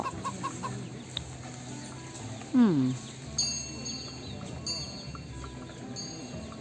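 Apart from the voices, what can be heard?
hen and rooster clucking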